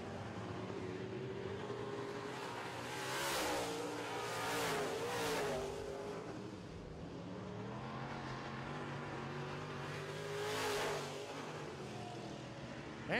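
Modified race cars circling a short oval track on the final laps of a heat race, engines roaring and rising in repeated passing surges, distant and faint with no talk.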